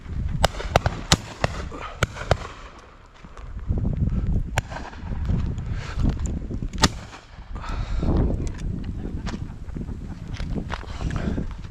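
Shotguns fire at a cold outdoor pheasant and partridge shoot, sharp cracks scattered through the clip, some close and some farther off, over wind and low background rumble.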